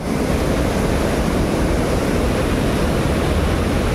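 Water rushes from the opened gates of the Musi project after heavy rain in Telangana, a loud, unbroken roar of churning water that holds steady without a pause.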